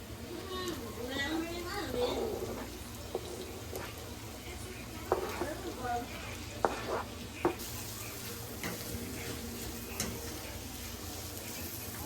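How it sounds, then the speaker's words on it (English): Onions, sun-dried tomatoes and garlic sizzling quietly in a pan, a soft steady crackle with occasional clicks of a utensil against the pan, while a person talks over it. "Now I am about to add in our sun-dried tomatoes and some garlic"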